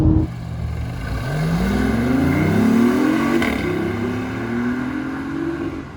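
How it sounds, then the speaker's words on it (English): A BMW i8 hybrid sports car's synthesized engine note played through rear speakers swells and holds steady, a smooth throaty drone that builds, dips briefly, then continues at a close, even level. "The exhaust is an audio system that ports sound, and it gives the car this kind of sound of a supercar"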